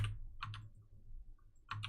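Computer keyboard typing during a game, a few quiet clustered key clicks at the start, middle and end with no talk.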